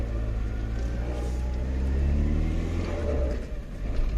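A Citroën BX 14 RE, run on E10 petrol after sitting parked for two weeks, drives with a steady mid-pitched engine drone and rumble heard from inside, rising slightly as it accelerates before easing off near the end.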